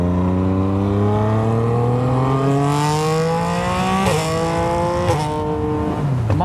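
Yamaha MT-09 motorcycle with a straight pipe exhaust, loud and close. Engine revs climb steadily through a long pull with a rising whine, then a sharp shift blip and a brief drop near the end.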